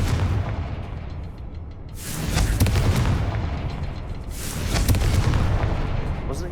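A fire spell in Hogwarts Legacy sets off two heavy explosive booms a few seconds apart, each a loud broad blast with a rumbling tail over a steady background.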